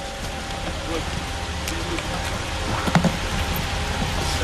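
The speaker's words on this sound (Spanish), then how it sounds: "Tenemos que irnos de inmediato, está lloviendo." Rain falls outdoors at night at an old hacienda, a steady broadband hiss with a few scattered louder knocks and rustles, while people talk faintly over it.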